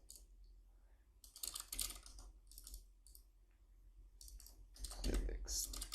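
Computer keyboard keys clattering in short bursts as code is typed, near and moderately loud, with brief pauses between flurries of clicks.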